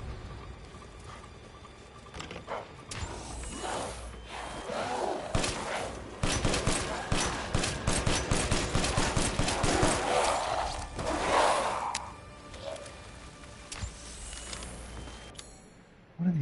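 In Resident Evil Village, sustained bursts of rapid gunfire grow into a dense, loud volley midway, with quieter, scattered shots before and after.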